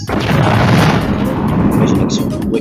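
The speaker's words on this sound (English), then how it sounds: "Which is an explosion that damages," A booming explosion ability from a trollge monster in a Roblox game, a damaging, paralyzing blast: a loud rumbling boom sustained for a couple of seconds with dense low-end roar.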